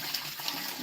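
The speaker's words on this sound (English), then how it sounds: "all I got to do" Dirty water is poured out of a gold pan, a steady splashing, rushing wash that stays close and fairly loud for the whole short moment, with no voice over it.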